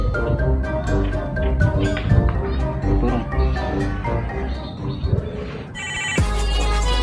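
A telephone ringtone sounds during a comedic phone-call scene about an online motorcycle-taxi (ojol) driver in Makassar, its ringing melody repeating loudly over a busy musical backing with a sharp electronic burst near the end.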